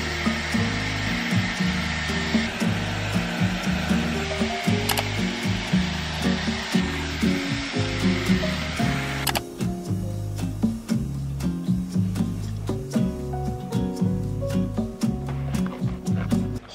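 A Dyson hair dryer blowing while hair is dried, a steady airy whir with repeated rhythmic pulses from the dryer being moved about, close and loud, with a brief change partway through.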